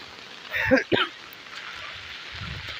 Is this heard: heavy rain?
yes